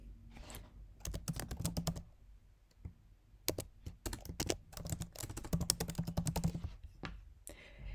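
A computer keyboard clatters under quick bursts of typing as a colleague's email address is entered, with short pauses between runs of close, crisp keystrokes.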